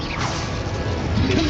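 A fire spell cast in Hogwarts Legacy bursts out as a dense, roaring whoosh with a crackling swish that stays loud throughout, ending in a brighter flare-up.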